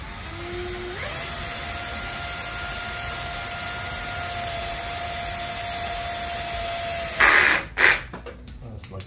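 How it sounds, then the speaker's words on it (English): Power drill boring a hole with a 3/16 bit, a steady high whine that spins up and holds for several seconds, then stops, followed by a few short clattering handling noises. "Go ahead and get that drilled."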